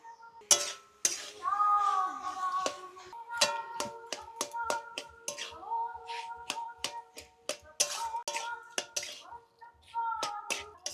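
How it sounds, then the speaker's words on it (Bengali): Boiled carrot, beetroot and potato are mixed together in a pan, giving repeated sharp spoon-and-pan clinks and scrapes in an uneven rhythm, close and fairly loud, with a little faint voice in the background. "এইভাবে ভালো করে আলুর সাথে বিট আর গাজরটাকে মিশিয়ে নিতে হবে"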